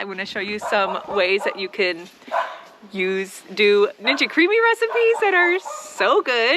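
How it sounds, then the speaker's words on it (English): Dogs bark repeatedly in the background of a home kitchen, their sharp yaps coming in quick bursts beneath a person talking nearby. "Sorry for the dogs barking in the background"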